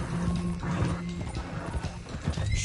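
Rapid hoofbeats of horses galloping with neighing and whinnying over them in Red Dead Redemption II, busy and continuous throughout.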